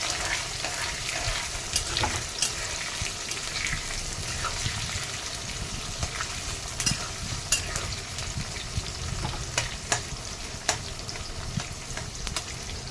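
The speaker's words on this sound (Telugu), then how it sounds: "తర్వాత ఉల్లిపాయ ముక్కలు వేసేసి" Onion pieces sizzle steadily in a non-stick pan while being stirred for a drumstick patoli curry, a dense continuous frying hiss broken by faint scraping and clicks, close, with no talk.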